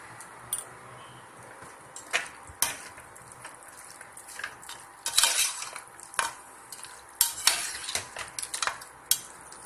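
A spoon stirs mutton biryani with oil and ghee in a pot, giving close, irregular scraping and clinking strokes against the metal, with sharper bursts toward the end over a faint sizzle.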